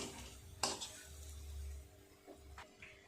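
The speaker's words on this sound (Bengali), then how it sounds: "এক এক করে সব পরোটাগুলোই আমার ভাজা হয়ে গেল।" Parathas fry in a pan with a soft, quiet sizzle, punctuated by a few sharp clinks and scrapes of a utensil against the pan.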